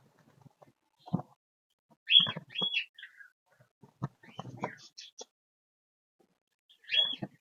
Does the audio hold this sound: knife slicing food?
no